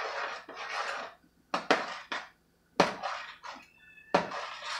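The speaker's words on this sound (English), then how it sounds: "And I'm going to give it a stir" A spoon stirs persimmon jam in a pot, making several close scraping sweeps and knocks against the pot in irregular strokes with brief pauses.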